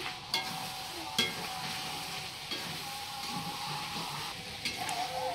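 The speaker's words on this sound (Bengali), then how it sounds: "ছোট ছোট আলু দিয়ে চিকেন রান্না করছি" Chicken with small potatoes frying in a pan over a wood-fired stove at night, a steady close sizzle with occasional scraping stirs of the spoon cutting through.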